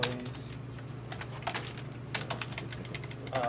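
Rapid clicking of keys on a keyboard during a typing test, some keys sticking, with irregular bursts of keystrokes over a steady low electrical hum.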